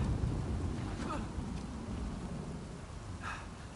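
Heavy storm in the video game Uncharted 4, steady rain hissing with a low rumble of thunder and wind, broad and continuous with a couple of faint brighter splashes, no voices over it.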